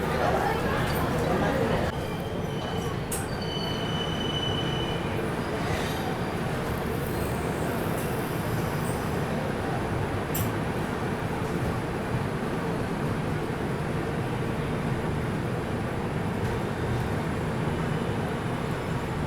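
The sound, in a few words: Duronto Express passenger train running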